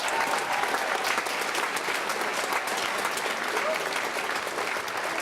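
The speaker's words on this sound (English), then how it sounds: "let's give them a round of applause." A school assembly crowd applauds the pep band at an Alaska high school event celebrating state basketball championships. The applause is dense and steady, like a full gym clapping together, and it holds at an even level throughout.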